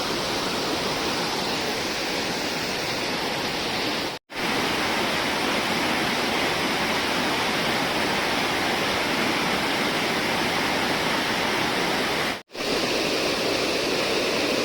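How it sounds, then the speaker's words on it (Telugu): Strongly flowing waterfall stream near Woddera Colony in Nizamabad: a loud, dense, unbroken roar of rushing water close by, cut by two brief dropouts. "వాటర్ మాత్రం ఘోరం ఫ్లో అయింది."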